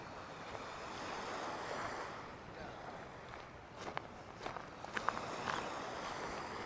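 Ocean surf rolls steadily onto Lido Beach in Sarasota, a continuous broad wash of waves with wind across the microphone and a few crisp footsteps on soft sand near the end.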